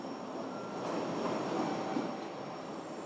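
A steady, rumbling interior drone of a JR HC85 diesel-battery hybrid train in Japan, with a low engine hum and rolling wheel noise, swelling slightly then easing, with no talking.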